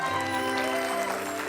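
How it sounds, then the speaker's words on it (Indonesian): A studio audience on an Indonesian comedy talk show breaks into steady, even applause, with sustained musical tones ringing underneath. "Tepuk tangan dulu dong."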